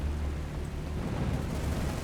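An explosion rumbles in the War on the Sea naval combat game, a dense, continuous low roar that stays loud for the whole moment without a sharp single blast.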